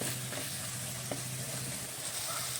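Ground spice paste for a fish-head curry sizzles steadily in a hot pan, a close continuous hiss broken by a faint scrape of stirring, with no talk.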